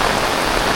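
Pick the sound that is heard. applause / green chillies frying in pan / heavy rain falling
heavy rain falling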